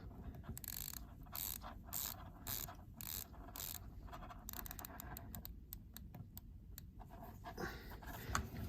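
Rotating bezel of a Seiko dive watch turned by hand, giving close, crisp ratcheting clicks in quick bursts with short gaps between turns, fairly quiet and with no speech.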